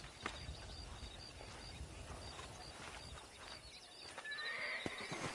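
A horse neighs near the end of a stretch of hoofbeats clip-clopping on open ground in the Red Dead Redemption video game, with a ranch setting and wild horses around.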